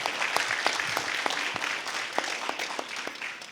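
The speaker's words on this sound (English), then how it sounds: "If we can just get a round of applause for him really quick." Audience at a library writers-series reading gives a round of applause, a dense patter of many hands with a few sharper claps standing out, moderately close and steady.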